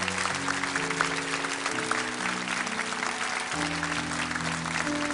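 Steady, full applause rolls through a church congregation at Bundang Woori Church honouring a student group, with held organ-like musical chords sounding beneath the clapping throughout.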